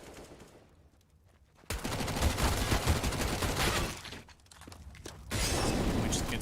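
Bursts of rapid gunfire from a Counter-Strike: Global Offensive match, loud sustained volleys with a brief lull between them.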